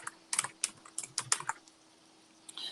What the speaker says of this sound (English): I type in cupcake